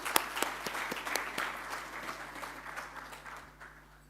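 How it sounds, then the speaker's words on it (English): Applause from guests at a corporate anniversary dinner in the Maldives, opening with a few sharp, distinct claps that blend into a moderate crowd clapping and gradually fade away. "let's give a big hand of applause to the MD, Mr. Mufadal, and his team."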